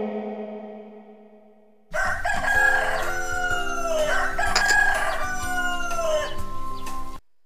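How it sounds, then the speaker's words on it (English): A rooster crows repeatedly amid hen clucking, loud and close over a steady backing, after a short sustained musical tone opens the passage. "H for hen."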